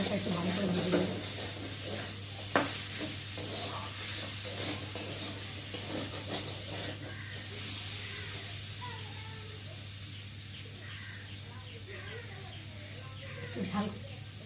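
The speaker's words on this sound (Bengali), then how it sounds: "এই মশলাটা একটু ভালো করে ভেজে দেবো।" Spice paste with tomato fries in a pan while being stirred, a soft steady sizzle under intermittent scraping strokes, with a voice briefly and faintly heard in the background.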